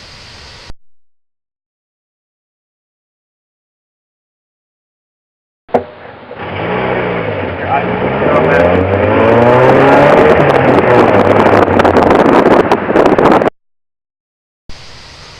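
A car in a physics stopping-distance test carrying only one person drives past loudly, with a rising engine and road roar for several seconds before a skidding stop, after a long silent gap.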